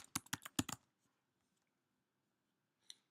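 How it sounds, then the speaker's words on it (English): A short burst of quick keystrokes on a computer keyboard, close and quiet, followed by near silence and a couple of faint clicks at the end. "And as I type in a link"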